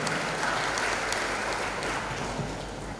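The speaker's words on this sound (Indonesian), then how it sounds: "Beri tepuk tangan dulu untuk narasumber kita semua" An audience at a national seminar in a graduation hall claps steadily for the speakers, a dense wash of applause continuing evenly at moderate distance without talk.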